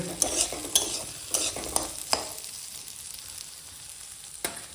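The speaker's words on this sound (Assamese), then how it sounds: "এইয়া মটৰ আৰু আলু ভাজি আছোঁ" Peas and potatoes frying in a pan as they are stirred, with sharp scraping strokes of the spoon in an uneven rhythm over a soft continuous sizzle, close up and free of speech.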